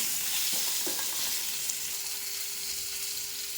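Pointed gourd fries in hot oil with a steady, dense sizzle and crackle that fills the whole moment, along with a couple of soft knocks from stirring early on.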